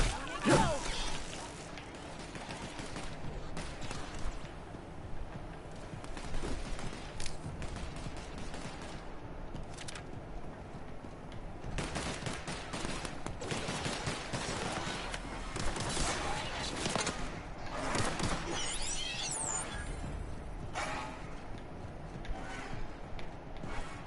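Gunfire crackles through a firefight in the sci-fi game The Outer Worlds, dense bursts of shots recurring over the span amid game noise and occasional shouted voices.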